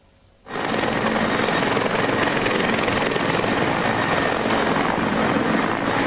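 A helicopter at a military counter-terror hostage rescue exercise starts up abruptly after a brief quiet moment, then its loud, close rotor and engine roar holds steady with a fast rhythmic chop.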